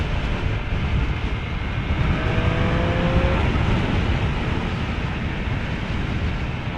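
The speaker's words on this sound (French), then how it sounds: "ce petit bruit, on a un échappement à roue qui lui permet de chanter bien comme il faut" Exhaust from a Triumph Street Triple 765 RS motorcycle on a group ride forms a continuous, fairly loud drone mixed with rushing wind, holding steady with a brief rising tone midway.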